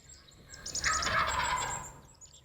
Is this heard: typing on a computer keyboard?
no